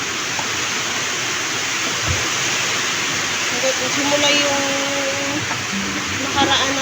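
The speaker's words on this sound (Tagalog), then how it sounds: "Malakas na yung ulan, guys." Heavy rain pours down steadily as a dense, constant wash of noise, with faint voices and small background sounds mixed in beneath it.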